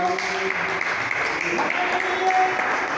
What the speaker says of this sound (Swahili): Tumupe Bwana makofi mazito.